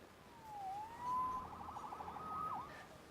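A wailing siren in the video game Marvel's Spider-Man sweeps up and down in pitch, fairly faint and distant, rising and falling a few times with no voices.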